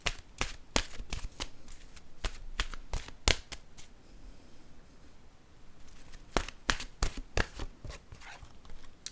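A deck of oracle cards is shuffled in quick, crisp riffling bursts, with a quieter pause midway before the snappy flicking resumes, close and clear with no talking.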